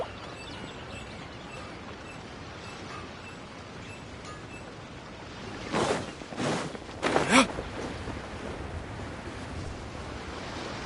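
Ocean waves in Genshin Impact wash in a steady low rush, with a few louder surges swelling near the middle before settling back.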